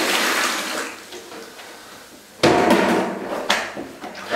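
Six litres of water pour into a container to mix floor leveling compound, a broad rushing splash that starts abruptly after a quieter stretch and continues loudly with a few sharper knocks near the end.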